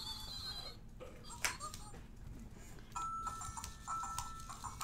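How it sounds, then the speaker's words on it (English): A Fingerlings finger toy makes a faint horse-like clip-clop and whinny noise, quiet and brief, with low household background sound. "He's like making the horse noise."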